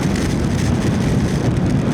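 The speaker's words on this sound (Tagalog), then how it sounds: "Medyo lumalakas na yung hangin dito." Strong, roaring wind buffets the microphone of a moving motorcycle on Bongabon Road toward Baler, Aurora during a storm and monsoon rain, a loud, steady rushing blast with no voices.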